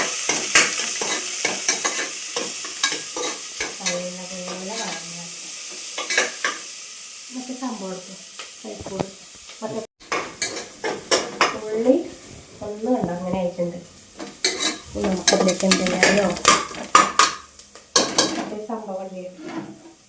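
Onion and ginger frying in a pan with steady sizzling, broken by repeated spoon-on-pan stirring scrapes and clinks, close and moderately loud, while a person talks intermittently over the cooking.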